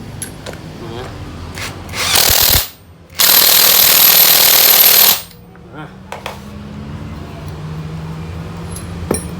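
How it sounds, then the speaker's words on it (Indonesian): Impact wrench tightening the alternator pulley nut on a Mitsubishi Canter truck during a bearing replacement, two loud close bursts of hammering whir separated by a brief pause, with quieter workshop handling noises around them. "Nah, ngasih kencangnya pakai impact bosku."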